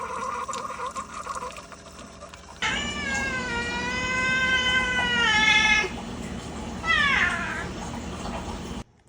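A male cat meows loudly and insistently at close range, a long drawn-out yowl followed by a shorter second meow, demanding a refill of his already full water bowl, over a faint background hum.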